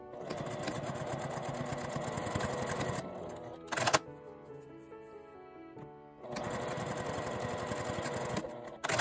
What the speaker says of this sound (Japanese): 1センチの縫い代で縫います。